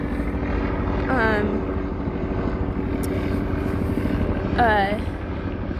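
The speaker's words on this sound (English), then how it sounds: "I'm just really distracted by the helicopters." A steady low mechanical rumble of several helicopters overhead fills the background throughout, with a person talking briefly over it, in a neighborhood after a school shooting.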